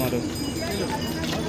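Horse hooves clip-clop on the mountain trail to Kedarnath, a short run of close, irregular knocks under a busy wash of background voices.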